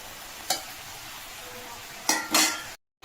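Cabbage in a pan over a high flame, with a faint steady sizzle broken by a few sharp scraping stirs and clinks of the utensil against the pan, then a brief silence.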